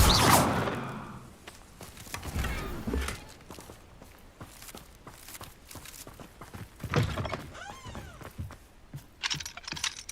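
Spells cast in the Hogwarts Legacy video game, Flipendo and Depulso, land as a series of sharp magical whooshes and thumps with fluttering sparkly tails, spread unevenly across the stretch with quiet gaps between bursts.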